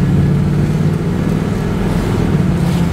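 A 1969 Chevrolet Camaro with a V8 engine drives off, its loud, steady low engine rumble filling the whole stretch with a constant throaty drone and no talking.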